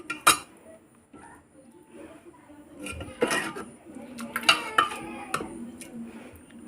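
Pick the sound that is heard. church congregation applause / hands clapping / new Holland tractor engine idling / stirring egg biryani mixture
stirring egg biryani mixture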